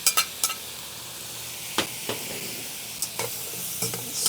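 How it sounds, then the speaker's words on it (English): Meat with its juices stir-fried in a wok, loud steady sizzle with a few sharp clanks of a utensil against the pan. "Let's dump our meat back in"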